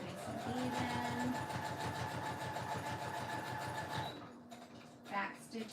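An embroidery machine back stitches a zipper bag in the hoop with a fast, steady mechanical whirring and rapid needle pulses for about four seconds. It then stops, followed by quieter handling sounds and a soft voice.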